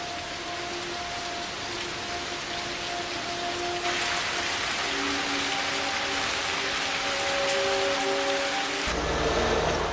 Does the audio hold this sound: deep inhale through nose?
no